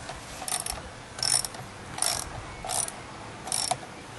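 A socket ratchet tightening bolts on an Echo PE 200 edger, giving five evenly spaced bursts of close, sharp clicking separated by brief pauses, with no talking.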